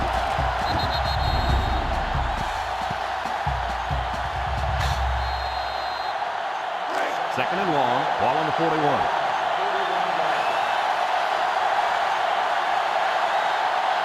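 A stadium crowd at a college football game in NCAA Football 2005 between Notre Dame and LSU keeps up a constant loud roar throughout, with an announcer speaking over it.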